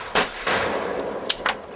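A pistol and a hunting carbine fire at targets at an outdoor hunters' gathering, with sharp isolated cracks spaced irregularly and a loud, echoing report between them.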